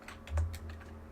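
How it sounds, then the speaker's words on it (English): Quiet, close-up typing on a computer keyboard, a handful of soft key clicks in quick irregular succession over low room hum, with no voices. "The keyboard."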